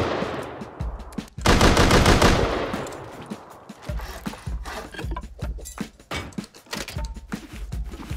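Video game gunfire cracks out in a loud sustained burst followed by scattered single shots and rapid clattering reports, close and sharp, with no talking.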